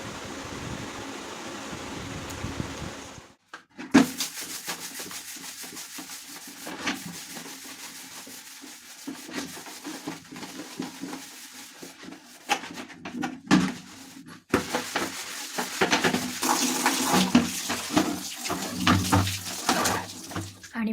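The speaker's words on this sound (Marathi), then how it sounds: "माझी भांडी झाली आहेत त्याच्यानंतर बकेट्स वगैरे आतमध्ये घासून झाले आहेत" Buckets and dishes being scrubbed by hand at home: close, steady rubbing and scraping strokes that come in bursts and grow louder after a brief pause, with a pigeon cooing in the background.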